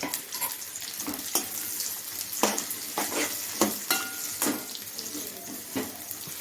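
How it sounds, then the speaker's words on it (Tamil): Chopped adamant creeper (pirandai) sautés in hot oil in a pan for chutney, a soft sizzle broken by repeated scraping and stirring strokes of a spoon against the pan at an uneven rhythm. "இது வந்து நல்லா கலர் மாற வரைக்கும் நல்லா வதக்கணும்"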